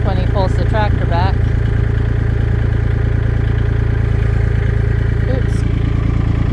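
Tractor engine idles with a steady, even low chug throughout, while a few brief squeaky chirps sound early on.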